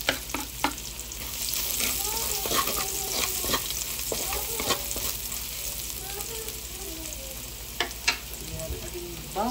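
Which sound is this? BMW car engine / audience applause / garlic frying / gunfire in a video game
garlic frying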